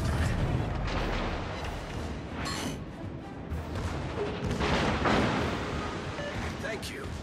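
Heavy battleship main-gun salvos from the Bismarck in World of Warships: Legends, loud booming blasts over a continuous low rumble that swells and fades across the stretch.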